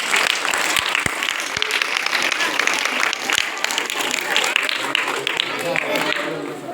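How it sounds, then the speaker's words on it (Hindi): Loud, sustained applause from an audience at a school prize distribution ceremony, greeting a young girl named first-place winner, with sharp individual claps standing out over the dense crowd clapping throughout. "जोरदार तालियां बच्ची का"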